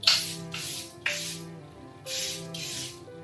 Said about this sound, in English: Setting my face with the Charlotte Tilbury setting spray.